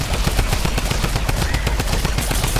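Rapid video game gunfire rattles in a fast, continuous burst of closely spaced shots, loud and near, with no talk over it.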